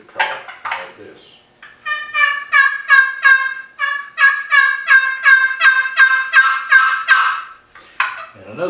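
A wooden turkey box call played upside down, using the body of the call, imitates a turkey with a loud, close run of rhythmic yelps and gobble-like notes, preceded by a few short clucks.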